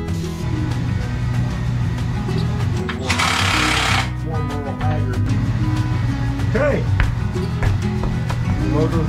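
An engine starts up and runs in a shop with the radiator shroud removed, its steady loud chugging rattle filling the space, with a brief hissing burst partway through and people talking over it.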